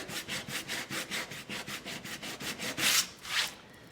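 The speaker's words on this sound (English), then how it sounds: "Like first stroke of the sandpaper." Sandpaper rubbed over a painted surface for a distressed, antiqued background: a steady series of about a dozen rhythmic back-and-forth scratchy strokes, close and clear, ending with two harder, louder strokes.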